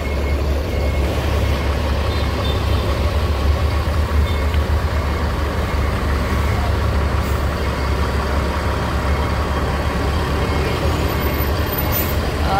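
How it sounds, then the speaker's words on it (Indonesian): A steady, loud low rumble of engines and road traffic in a traffic jam, heard from inside the Harapan Jaya H631 coach bus on the Palembang line, with a continuous droning hum and no clear individual events. "ini terjadi kemacetan"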